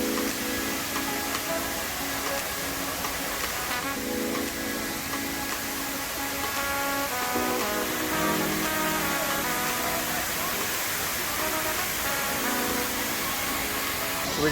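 A waterfall in the lush northern Bali countryside gives off a steady, loud broadband rush of falling water that holds unchanged from start to finish, with no voices heard.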